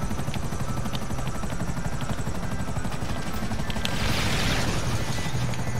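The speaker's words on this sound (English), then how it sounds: "This is our helicopter?" A video-game helicopter thrums with a fast, steady rotor chop throughout, loud and close, with bursts of gunfire and a swelling rush near the end.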